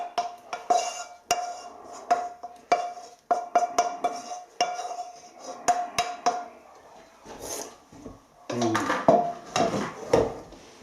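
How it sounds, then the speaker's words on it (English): Spam rogan josh scraped from a pan into a slow cooker, with repeated metal spoon clinks and scraping rasps against the pan in uneven bursts, close up, followed by softer rustling and a brief low murmur. "And so we'll transfer that into the slow cooker without making too much mess."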